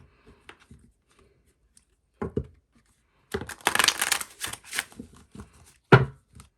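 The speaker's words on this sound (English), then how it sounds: "I feel like I need to shuffle just a little bit more." Cards of a Lost Hollow tarot deck with edged cards are shuffled in a burst of quick riffling and rustling, with a few sparse taps before it and a sharp snap near the end.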